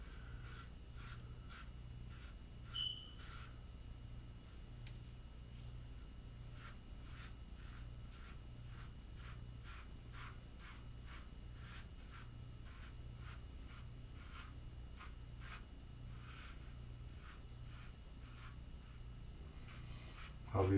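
Repeated short razor strokes of a Gillette Nacet blade scraping through lathered stubble, a steady rhythmic rasping series, close and quiet, without talk.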